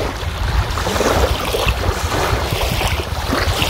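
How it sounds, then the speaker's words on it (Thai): Ocean waves washing onto a beach, a steady broadband wash with wind buffeting the microphone throughout, close and fairly loud with no talking. "ฟังเสียงคลื่นทะเล"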